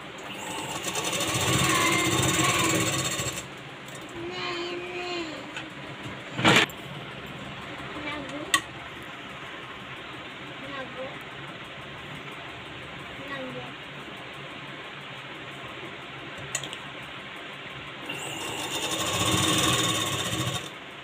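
A sewing machine stitches the lining of a designer blouse, heard as a loud steady mechanical whirring run at the start and another at the end, with someone talking quietly between them.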